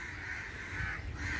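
Aggressive crows caw harshly and repeatedly around a rescued baby crow, the calls loud and near, layered over one another without pause and with no talk.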